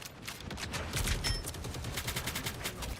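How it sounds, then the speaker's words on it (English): Gunfire from a player shooting at tanks in a hero shooter game, a rapid, steady burst of shots at an even rhythm, moderately quiet, continuing throughout without a break. "He's shooting at tanks down main."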